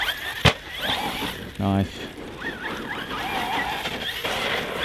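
Team Magic Seth RC car with a Rocket 4092 1650kv brushless motor on a 4S battery, its motor whining and rising and falling in pitch as it is driven, with a brief word spoken over it.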